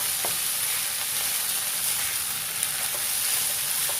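Beef fried rice with soy sauce and oyster sauce being stirred in a hot pan, a steady close sizzle with faint scraping strokes of the utensil scattered throughout, no voices.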